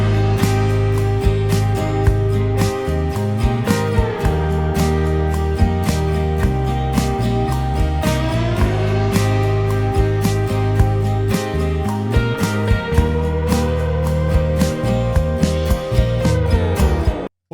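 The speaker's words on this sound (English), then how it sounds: "I'm going to use this dobro slide" Dobro guitar laid flat across the lap and played with a slide like a lap steel, a sustained melodic line with gliding pitch bends over steady plucked notes, close and clear.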